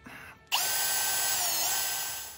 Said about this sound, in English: We're just going to drill through here, attach the bracket with some pot rivets